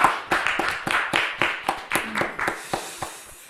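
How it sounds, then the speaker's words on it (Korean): A church congregation claps together in a steady, fairly quick rhythm, about a dozen crisp, close claps with no voices. "하나님께 우리 영광의 박수 올려드리겠습니다"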